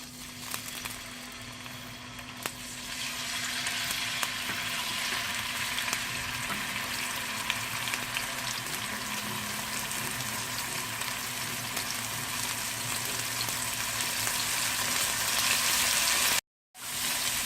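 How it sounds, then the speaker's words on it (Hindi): Steady, loud sizzling of ginger garlic paste frying in hot oil, continuous crackle throughout, with a brief cut near the end. "अब इसमें हम अदरक लहसुन का पेस्ट ऐड करेंगे।"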